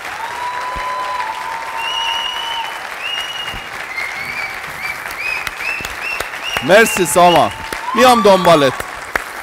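Applause from a studio audience on a Persian music show fills the room steadily, with a tonal whine running through the claps, while someone speaks briefly over it near the end.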